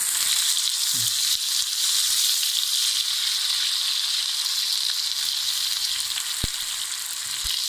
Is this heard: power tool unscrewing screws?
no